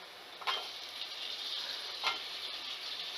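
Potatoes dropped into fried masala in a hot pan for Kolhapuri val batata aamti, giving a steady, faint hiss of sizzling with a couple of brief scraping stirs.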